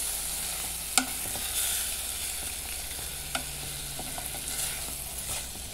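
Codfish simmering in a creamy sauce in a pan gives a steady soft sizzle and bubbling, with a couple of sharp utensil clicks on the pan; no one talks.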